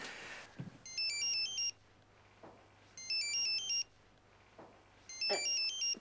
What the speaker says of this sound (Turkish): Bir cep telefonu çalıyor.